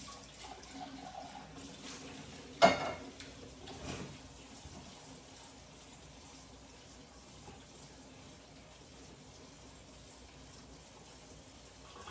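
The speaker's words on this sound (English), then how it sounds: "just rinsing my beans over there" Water from a kitchen tap runs steadily over organic beans being rinsed, a soft continuous splash at moderate distance with a couple of brief clatters near the start.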